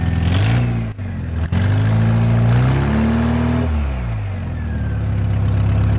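A car engine, on a vehicle in need of a new muffler, idles loudly up close, then its pitch climbs steadily as the throttle is raised, holds briefly high, and drops back to a rough idle.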